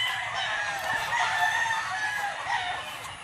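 A rooster crows among breeding chickens on a morning farm, a loud drawn-out call over faint clucking in the background.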